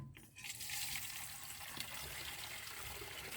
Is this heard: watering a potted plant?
yes